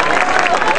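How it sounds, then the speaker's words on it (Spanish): An audience at a fair coronation ceremony, Expo Feria Isla 2011, breaks into loud, dense applause mixed with crowd noise. The burst is brief and close, with voices faintly blended in. "Un aplauso para ella."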